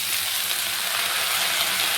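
Lau greens, the leaves of bottle gourd, fry in a pan with dried fish, giving off a steady, close, bright sizzling hiss that holds evenly for a couple of seconds with no talking.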